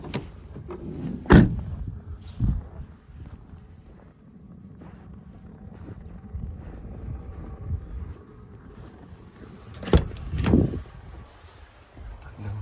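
The door handle of a 2012 Renault Trafic passenger van clunks and the door slides open with a couple of heavy thumps, amid wind buffeting the microphone outdoors.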